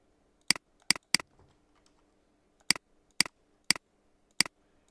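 Keys on a computer keyboard click in sparse bursts while AutoCAD commands are entered: a quick cluster of three taps, a pause, then four evenly spaced single strokes, sharp and close with near silence between.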